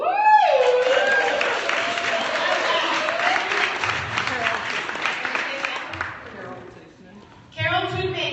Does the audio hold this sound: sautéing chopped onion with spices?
no